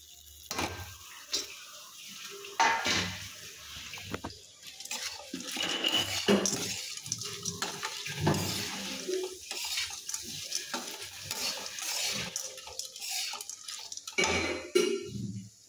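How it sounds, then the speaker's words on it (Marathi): Dishes, pots and pans are scrubbed and washed in a home kitchen, with repeated metallic clinks and scraping at close range, a trickle of water and a few faint voices in the background. "लेक आता भांडी घासायला लागली आहे"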